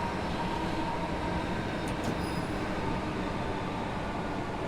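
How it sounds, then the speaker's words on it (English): Steady rumble and rattle of train bogies rolling along track in Train Sim World 6 on the Medway Valley Line, a continuous broadband roar with faint high squeaks partway through. "Like, with all the bogies rattling and such."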